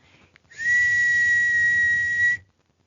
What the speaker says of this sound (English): The leprechaun blew a silvery note on his whistle.